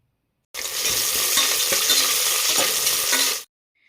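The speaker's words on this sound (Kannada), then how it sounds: "ಫ್ರೈ ಮಾಡ್ಕೋಬೇಕು. ಇವಾಗ ಈರುಳ್ಳಿ ಹಾಕೋಬೇಕು." Onions sizzling and frying with masala and whole spices such as bay leaf in a pan for vegetable pulao, a loud steady crackle with stirring scrapes that starts abruptly and stops after about three seconds, no talking.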